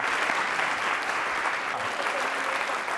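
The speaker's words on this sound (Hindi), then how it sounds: "पूजा जी के लिए तालियां जोरों से बजाइए, जोरों से बजाइए पूजा जी के लिए।" Audience at a Holi-themed university quiz show breaking into sustained, dense applause, steady and loud throughout with no pauses or voices standing out.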